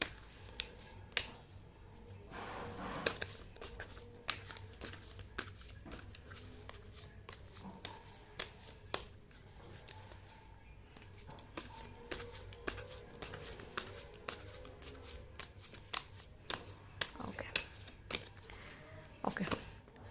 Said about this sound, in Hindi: चलिए शफल कर लेते हैं।